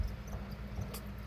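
Crickets in a breeding container chirp steadily in a soft, close, continuous trill with no other sounds.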